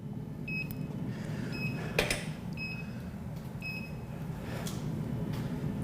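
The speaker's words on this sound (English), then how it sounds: "You could hear it beeping on and off." An electronic automotive scan tool beeps repeatedly while failing to identify a vehicle, short high tones about once a second, against a steady low hum of ambient noise.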